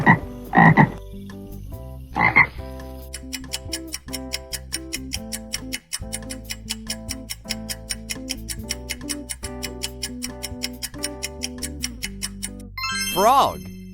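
Frog croaks come in short bursts, two near the start and one at the end, with steady rhythmic music playing underneath and between them.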